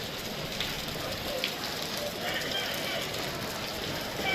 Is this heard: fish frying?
no